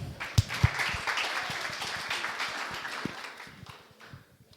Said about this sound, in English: So big round of applause for Hibby, please.